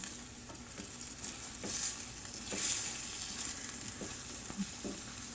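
Polenta cakes sizzle steadily as they fry in a pan, a continuous close crackle with a few brief louder pops and swells of spattering oil, no voices present.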